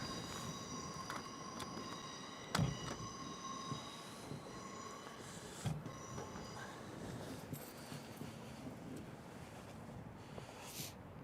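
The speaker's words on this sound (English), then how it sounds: "That's the Azuma heading towards London." An LNER Azuma train departs Doncaster station toward London, its steady rumble and rail noise mixed with faint wheel squeal, a couple of sharp clanks and some wind buffeting on the microphone.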